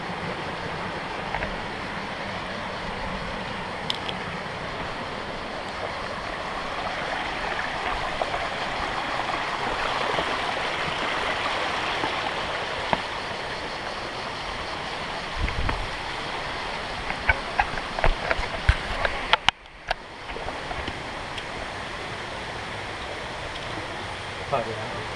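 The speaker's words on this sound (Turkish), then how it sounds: "Şelalemiz." A forest waterfall and stream near a village flow in a steady wash of rushing water, with brief voices and handling noises toward the end.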